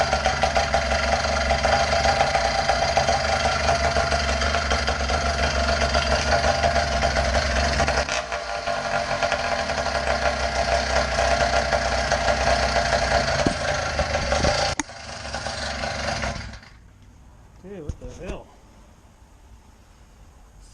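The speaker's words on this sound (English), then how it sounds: "Trying to figure out my idle here." Small motorized bicycle engine idling close up, a steady buzzing putter that holds for about fifteen seconds, then stumbles and dies away to near silence.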